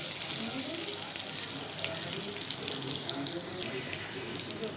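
Dry red chilies frying in oil with bay leaves and black cumin for Bengali aloo posto, a close, steady crackling sizzle with frequent sharp pops.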